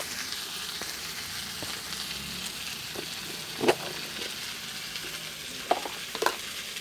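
Bitter gourd frying with turmeric in a pan gives a steady, quiet sizzle, broken by a few brief clinks or stirs near the end; no one speaks.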